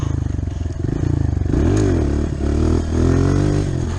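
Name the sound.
motorcycle engine revving during wheelie practice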